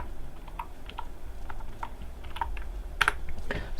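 Typing a terminal command on a computer keyboard: a quiet, irregular run of individual key clicks, close to the microphone, with a short quick flurry of keystrokes near the end and no talking.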